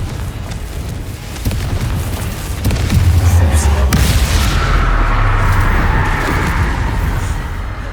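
A Confringo fire spell in Hogwarts Legacy bursting into a heavy, rumbling explosion that swells midway and lingers as a roaring blast amid dense game combat noise.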